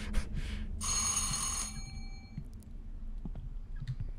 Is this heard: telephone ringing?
yes